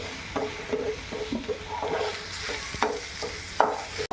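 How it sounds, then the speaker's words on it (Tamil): Tomatoes sautéing in a pan for a dried prawn thokku, a low steady sizzle broken by several clacks and scrapes of stirring, close and moderately quiet with no talking. "தக்காளி நல்லா வதங்கணும்"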